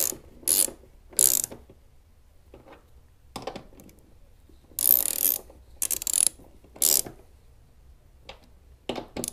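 Ratchet wrench tightening a bolt on a Jeep Gladiator or Wrangler hood strut, heard as several short bursts of rapid clicking separated by pauses, close and alone.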